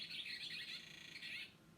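A small blue tit calls in a quick chattering burst of scratchy, high notes lasting over a second, then stops, leaving quiet background.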